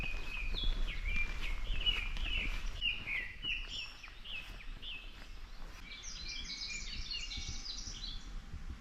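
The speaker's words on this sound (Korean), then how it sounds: "곳곳에서 새소리도 들리고 있는데요" Several birds chirp and trill in quick, high bursts over a low outdoor rumble on a trail near Soyang River, Chuncheon, busiest early on and then thinning to scattered calls.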